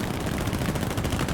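Rapid machine gun fire from a fighter plane in War Thunder air arcade combat, a dense, continuous rattle of shots over a loud engine drone, heard close and without pause.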